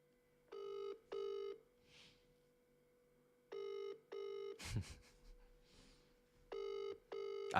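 An outgoing phone call ringing back in a repeated double-burst pattern, three pairs of tones spaced evenly, with a sharp clatter and faint background noise between them.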